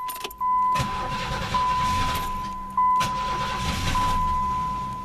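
An old, rusty $100 derby car cranks over and its engine catches, running steadily and loud up close, with a brief pause between attempts and a steady whine riding over the engine noise.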